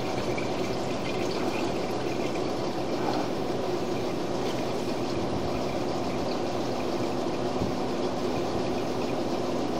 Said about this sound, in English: Flush the toilet just to see if we can clear up some of that sludge that we were seeing.